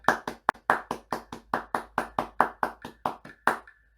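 Hands clapping a steady rhythm during a tenor trombone lesson, about fifteen sharp, close claps evenly spaced with one quick extra clap early on.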